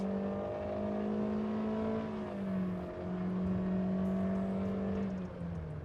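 A car engine drones loudly and steadily, its pitch rising and dipping as it revs while accelerating, with no talking.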